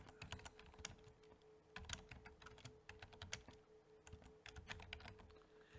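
Quick, uneven bursts of clicking keys on a computer keyboard as tweet text is typed, close and fairly quiet, with short pauses between runs of keystrokes and no voices.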